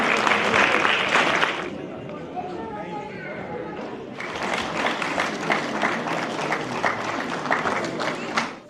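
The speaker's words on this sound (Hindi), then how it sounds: "तालियां सभी के लिए।" An award ceremony audience applauds in loud bursts, with a lull of chatter in the middle before the clapping swells again.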